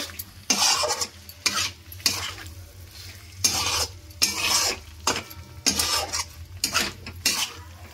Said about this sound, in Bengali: এই যে এবার ডিমগুলোর সঙ্গে ভালো করে মশলাটা এইভাবে মিক্স করে নেব।